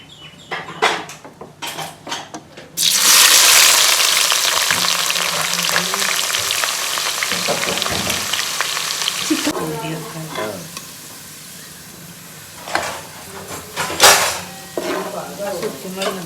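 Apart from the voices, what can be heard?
onions frying and sizzling in a pan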